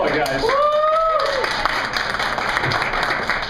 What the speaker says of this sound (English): Round of applause for Ali McCullough, guys.